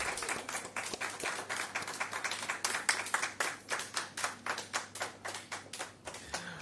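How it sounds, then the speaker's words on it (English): An audience at an official asthma guideline launch claps in a round of applause, starting as a dense patter and thinning into distinct, rhythmic individual claps that gradually slow. "Round of applause."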